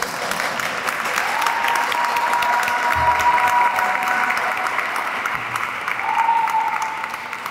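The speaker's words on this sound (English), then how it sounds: "Let's welcome them with a round of applause" At a Hispanic Heritage Month closing ceremony, an audience claps to welcome the pageant winners in steady, sustained applause, with some crowd voices and cheering mixed in.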